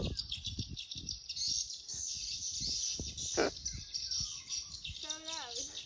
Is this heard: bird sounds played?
yes